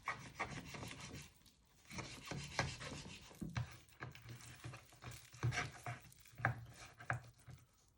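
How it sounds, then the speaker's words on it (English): Knife cutting meat from lamb bones on a board, close and quiet, with repeated scraping, rubbing strokes in irregular bursts and short pauses between them. "So I'm going to use my knife to cut all the way round."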